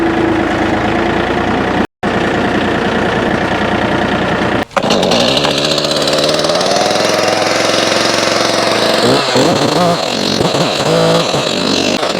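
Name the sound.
chainsaw running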